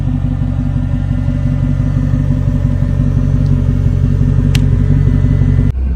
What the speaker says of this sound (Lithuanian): manau, automobilį paleisim